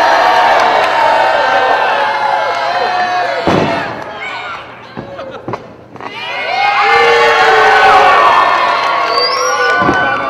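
A wrestling arena crowd at an EWF match roars and cheers loudly, dropping to a lull with scattered shouts before surging back into full cheering and whoops.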